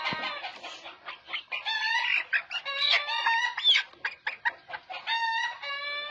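Desi chickens raised naturally, clucking and squawking in a busy overlapping chorus of short, sharp calls, close and fairly clear, with a brief crow-like call among them.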